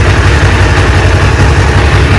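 Loud, close engine noise, a dense steady roar with a rapid low throbbing, as a Honda CB500 motorcycle engine runs after starting following a starter motor brush replacement.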